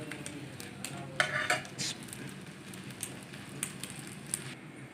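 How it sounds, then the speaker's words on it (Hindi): Onion naan frying in two spoons of oil on a pan, flipped to cook the other side, with a low steady sizzle under scattered light clinks and scrapes of a utensil against the pan. "नान प्याजी को पलट देंगे।"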